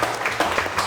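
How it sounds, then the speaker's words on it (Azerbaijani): Studio audience applause on a comedy talk show, a brief burst of close, even clapping from many hands. "Alqışlar, təbrik edirik Ehtiram bəy."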